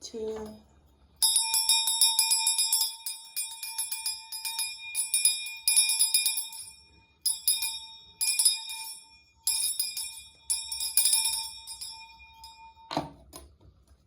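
A bell is struck for a sound cleansing, ringing with a sustained bright metallic tone through repeated strikes that fade and renew, after a brief spoken count at the start.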